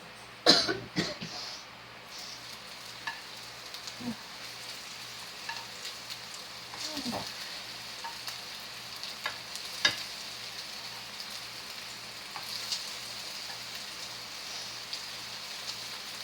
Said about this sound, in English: now I'm gonna quickly add my meatballs